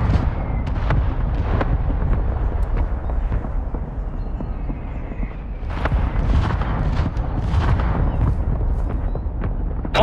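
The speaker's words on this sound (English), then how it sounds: "Hostile mortar strike near your position." Mortar strike explosions in Call of Duty: Modern Warfare II, a dense rolling series of heavy booms and blasts with sharp cracks scattered through, loud and continuous across the whole stretch without speech.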